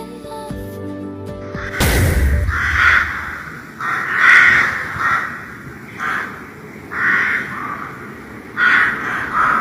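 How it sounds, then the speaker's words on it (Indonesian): A crow in the video game Sakura School Simulator caws loudly again and again in a steady series of harsh calls, following a brief sharp burst at the start. "Burung gagak ini kayaknya."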